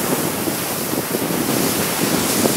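Strong steady wind roaring across open water on Kilpisjärvi during kite sailing, a broad continuous rush with gusty swells, heard alone at close range.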